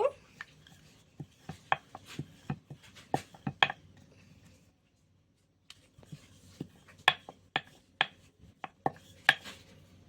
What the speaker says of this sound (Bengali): এবার একে একে বেলে নেব।